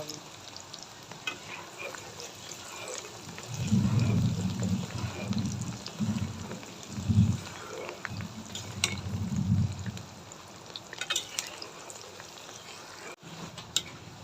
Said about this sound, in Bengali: এবার ডালগুলা কয়টা অল্প অল্প করে ভাইজা নিব